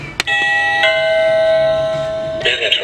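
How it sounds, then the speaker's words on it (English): A Halloween decoration doorbell rings nearby with a sustained electronic chime tone that holds for about two seconds, followed by a brighter jingling burst at the end. "we have this doorbell here."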